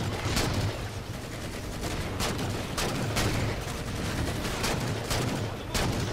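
Gunfire in the video game Halo 4, a steady rattle of automatic shots with repeated sharp bursts over a dense, noisy battle backdrop.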